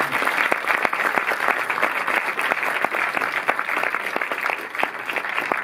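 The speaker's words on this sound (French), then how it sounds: "Vous pouvez les applaudir." A cinema audience at a Paris film festival awards night claps for a team being welcomed on stage, with a steady, moderately dense round of applause and distinct individual claps throughout.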